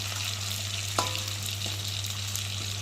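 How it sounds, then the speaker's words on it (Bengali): Rohu fish frying in hot oil gives a soft, steady sizzle, with one brief clink of a utensil partway through and no talk. "মাছ ভাজা হয়ে গেছে"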